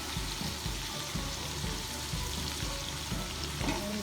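Garlic frying in a pan for a mutton and okra stew, a quiet steady sizzle with a faint rhythmic pulsing underneath, no one speaking.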